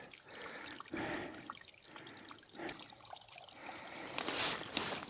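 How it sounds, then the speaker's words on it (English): Stream water trickles and gurgles steadily into a water bottle on a backpacking trail, close and faint, with soft splashing and bubbling throughout. "fill up a water bottle."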